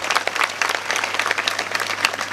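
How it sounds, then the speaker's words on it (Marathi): An audience at a Marathi kirtan gathering claps in welcome, a dense, continuous burst of applause from many hands, close and loud throughout. "समस्त सज्जनांना संप्रदायाचा प्रतिनिधी म्हणून मनपूर्वक टाळ्या वाजवून मी स्वागत करतो."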